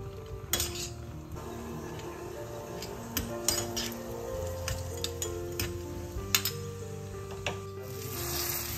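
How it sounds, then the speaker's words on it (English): Cashews and raisins fry in hot ghee in a pan, giving a soft, steady sizzle beneath scattered metallic clinks and scrapes of a spoon stirring, with no voices. "Meanwhile, fry cashews and raisins in hot ghee."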